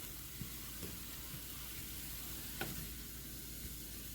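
Salmon cooks in a pan with a soft, steady sizzle and hiss, quite faint, with a couple of small pops and no speech.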